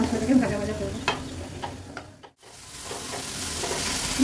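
Spice paste with slit green chillies frying in a pan sizzles steadily up close, punctuated by light scraping stirs, with a brief dip before the sizzle resumes.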